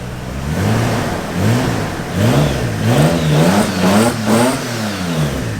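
A rally Toyota Supra, freshly refreshed, starts and revs with a medium engine note that rises and falls in repeated throttle blips, loud and close, with no talk over it.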